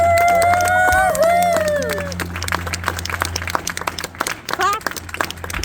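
An audience applauds after a Wild West gunfight reenactment behind the OK Corral in Tombstone, Arizona. Steady clapping builds into scattered, uneven claps, with a voice talking over the first couple of seconds.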